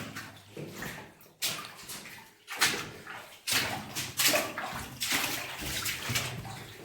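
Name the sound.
water seeping in underground gold mine tunnel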